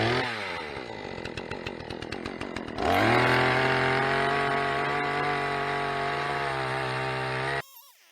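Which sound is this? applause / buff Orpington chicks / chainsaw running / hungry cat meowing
chainsaw running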